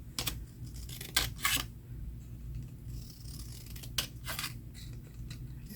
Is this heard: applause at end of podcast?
no